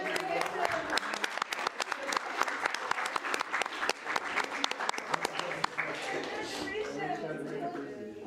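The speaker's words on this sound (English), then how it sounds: "And one more round of applause for the whole new MV." A room of delegates at a national student network assembly gives a round of applause for the newly elected board. Dense clapping runs for several seconds at a steady level, then thins out as talk begins.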